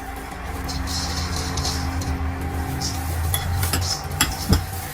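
Raisins, cashews and almond slices being mixed into dough at a junior baking club, with soft repeated stirring and scraping, light clinks of utensils and a low background hum throughout.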